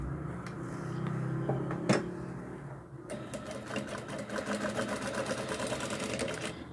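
A sewing machine stitches a seam between a ruffle and a skirt on a rag-doll dress, starting after a brief pause and running steadily with a rapid, even mechanical rattle, close and alone.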